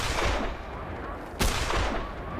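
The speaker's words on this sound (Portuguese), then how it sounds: "Errando o disparo." Two loud shotgun blasts from a hunting game in which the shots miss snow geese, spaced about a second apart. Each has a sharp crack and a long rumbling decay over a dense, noisy background.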